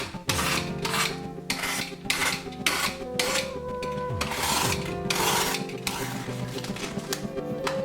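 A knife scrapes and scores foam for a natural-looking vivarium background in repeated rough rasping strokes, close and fairly loud, with a few brief pauses between them.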